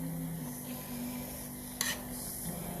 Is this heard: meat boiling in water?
yes